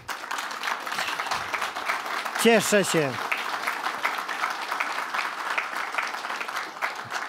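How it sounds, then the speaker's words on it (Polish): Audience applause at a political speech, steady crowd clapping that continues throughout while someone speaks over it. "Cieszę się, proszę Państwa, że słyszę te brawa"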